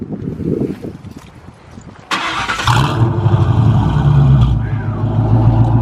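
A Ford Mustang GT V8 engine with an off-road X-pipe cranks and fires up with a sudden burst, then settles into a loud, deep rumbling idle right up close.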